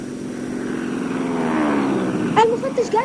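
A steady propeller aircraft engine drones loudly throughout, with a voice briefly speaking in Arabic over it near the end.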